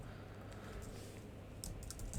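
Typing on a computer keyboard while working on a design in Figma, a quiet, close run of light key clicks that grows a little busier toward the end.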